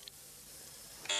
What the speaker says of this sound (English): They are connected to headquarters by alarm buzzers and blinker signals.